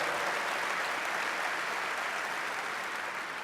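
A large audience applauds at a Rotary gathering addressed by Canadian Prime Minister Justin Trudeau, celebrating polio eradication: a loud, even wash of many hands clapping at once, with no voices.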